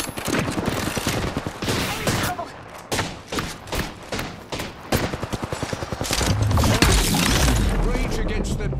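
Apex Legends gunfire, a series of rapid automatic bursts crackling close and loud, broken by short pauses, with a player talking over parts of it.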